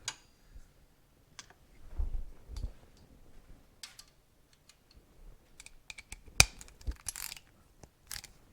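A tool clicks and ratchets while tightening a part during assembly of a Suzuki TC125 motorcycle transmission and case, heard as sparse, close metallic ticks and taps in a quiet workshop with no talking.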